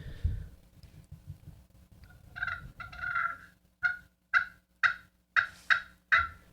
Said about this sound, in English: the aluminum side, you definitely can get raspier and louder on that side of the call